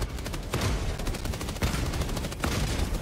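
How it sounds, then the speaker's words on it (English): Gunfire in the video game Helldivers 2: rapid bursts of automatic weapon fire in several volleys, fairly close and steady, with no talk over it. "Who's doing the shooting?"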